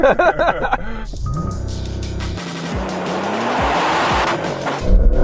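A new Porsche 911 launching hard off the line, its engine roaring up through the revs with a short tire squeal as it pulls away, loud and close, with brief voices at the start.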